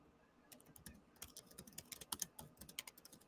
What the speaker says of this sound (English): Sorry, I was just typing to somebody.